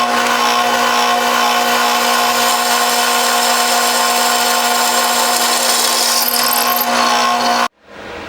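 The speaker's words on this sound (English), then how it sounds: "Just a simple drill bit on the drill press will make easy work of all this stuff." A drill press with an ordinary drill bit bores holes in steel for a welded gym rack, a loud steady whining grind that runs continuously before cutting off abruptly near the end.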